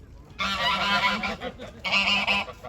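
Geese honk loudly and close by in two noisy, overlapping bursts of harsh, nasal calls separated by a short pause.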